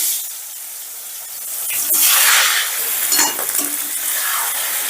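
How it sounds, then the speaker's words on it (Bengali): Eggplant pieces fry in hot oil seasoned with salt and turmeric over a high gas flame, giving a loud, steady sizzle and hiss with a few brief crackles and no talking. "প্রথমেই আমি বেগুনগুলো ভেজে নেব"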